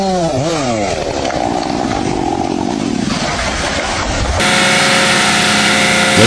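A big chainsaw cuts a tree with a loud, continuous buzzing drone that shifts pitch as the engine revs under load, joined near the end by a sharper, steadier whine.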